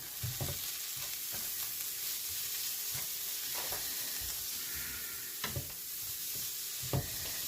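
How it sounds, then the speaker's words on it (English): Sausage and pasta being stirred in a sizzling pan, a steady frying hiss under repeated scraping clinks of the spoon against the pan, close and moderately loud. "I'm just going to stir this a little bit."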